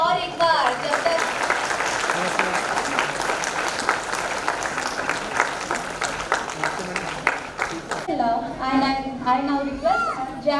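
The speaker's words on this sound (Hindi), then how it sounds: "तालियां रुकनी नहीं चाहिए" Continuous crowd applause welcoming dignitaries at a formal ceremony fills most of the clip, dense and steady, before fading as a voice begins talking near the end.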